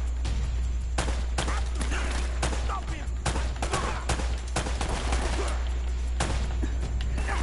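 Bursts of gunfire from the Uncharted video game crackle over a constant game soundtrack hum, with repeated loud shots clustered across the whole stretch at close, even level.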